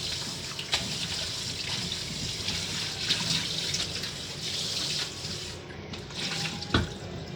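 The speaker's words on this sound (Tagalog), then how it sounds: "Hugasan muna natin tong gulay guys." Tap water runs steadily into a sink as vegetables are rinsed, a continuous splashing hiss with a few light clatters and bumps of handling, close up and without talk.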